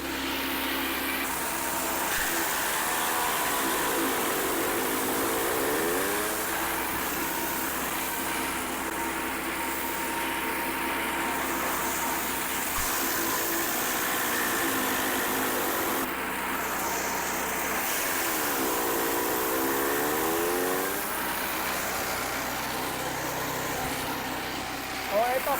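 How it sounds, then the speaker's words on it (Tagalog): A shredder machine runs continuously with a loud, steady grinding roar that rises and falls slightly as material is fed through, and a voice talks over it throughout. "pakita ko po sa inyo kung gaano po katibay at gaano po kalakas itong ating shredder"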